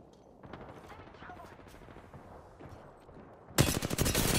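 Gunfire in the video game Apex Legends: scattered, fairly faint distant shots, then a sudden loud burst of rapid automatic fire close up.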